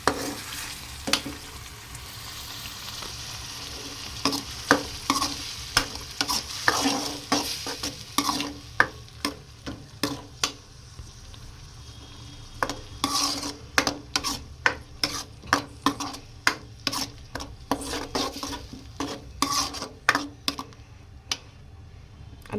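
Rajma masala is stirred and fried in a pan. A spatula clicks and scrapes in repeated, irregular taps over a low sizzle, close by and with no voices.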